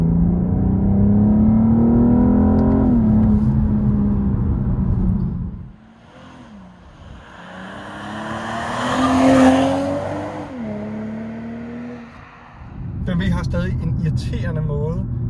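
A BMW 430i engine in sport mode revs up and down in loud surges, with gear changes, a lull, and another rise in pitch and volume.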